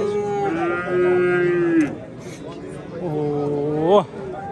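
Cattle moo loudly and close by at a livestock bazaar in Nookat, with two long, drawn-out calls separated by a short pause over a murmur of crowd noise and background chatter.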